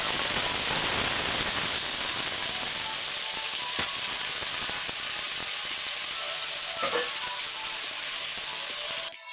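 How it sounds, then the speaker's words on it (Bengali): Onions frying in hot oil in a wok, a steady dense sizzle running loud and close throughout with a couple of brief stirring clatters, no talk. "পেঁয়াজগুলো ফ্রাই করতে থাকবো, হালকা বাদামি রং হওয়া অবধি"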